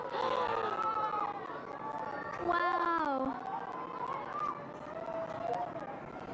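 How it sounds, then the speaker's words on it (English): Crowd of eclipse watchers cheering and screaming in excited chatter, with shrill whoops and overlapping voices, one voice exclaiming nearby, a steady lively din throughout. "You can hear people screaming in the background"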